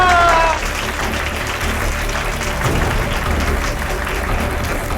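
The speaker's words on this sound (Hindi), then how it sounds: "तालियां" Studio audience applause on a Hindi TV drama set, a steady broadband clatter of clapping that swells right after a brief tonal cue and carries on loud for several seconds without letup.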